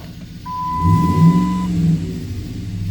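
A Dodge Ram truck engine starts with a chime and rumbles up into a loud revving roar, then settles to a steady idle, heard close and alone.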